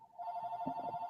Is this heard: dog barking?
no